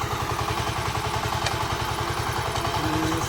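A heavy tractor engine chugs steadily while ploughing furrows in a sugarcane field, with a rapid, even low thumping and some clatter, heard fairly close and continuous with no talk.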